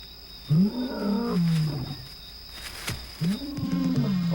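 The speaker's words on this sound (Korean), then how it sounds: "어둠을 뚫고 들려오는 사자의 울음소리가 그녀의 반사작용을 불러일으킵니다." A lion roars in the dark in the African wild, two long moaning roars near and loud with a pause between, over a steady background hum.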